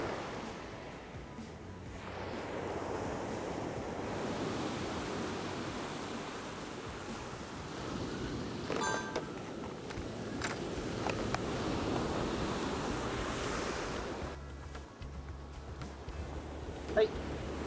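Surf breaking steadily on a beach at Tahara, a continuous broadband wash of waves that swells and eases throughout, close and fairly loud, with no voices over it.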